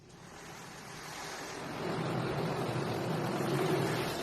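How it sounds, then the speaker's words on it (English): Touchless car wash with no brushes sprays heavy jets of water onto a car, a steady loud broadband rush that builds and swells partway through, with no talking. "It's like it's just rinsing the car."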